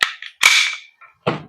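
A single crisp crack from a KJWORKS KP-07 1911 MEU airsoft gas blowback pistol, framed by light mechanical clicks before and a brief clatter after, close and isolated.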